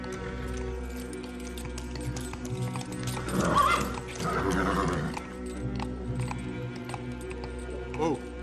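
A horse whinnies and snorts amid clopping hooves, with voices talking in the background throughout.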